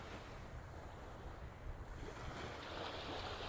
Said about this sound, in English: And the sea just keeps rolling in.